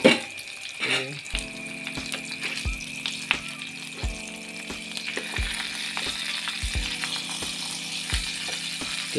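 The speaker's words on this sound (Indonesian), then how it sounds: "Kita grill dia lebih kurang 20 minit ya kawan-kawan" Pork that was boiled first now grills under a lid with a steady close sizzle and crackle, broken by regular clicking and clanking knocks from the grill at about one-second intervals.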